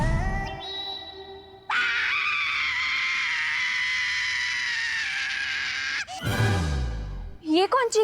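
A loud, sustained scream with a wailing quality lasts several seconds in a fantasy TV drama scene, cut off abruptly and followed by short strained cries.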